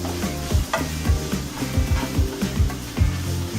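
Sloppy joe mixture stirred in a hot pan, a steady loud sizzle with repeated scraping strokes of the utensil in an even rhythm, close up with no talking.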